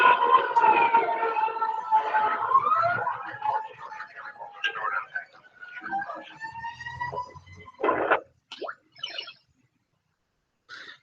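A warbling leak alarm siren from a LogixPro PLC plant simulation of a product filling process rises and falls for several seconds, then breaks into short bursts and stops, with someone talking over it.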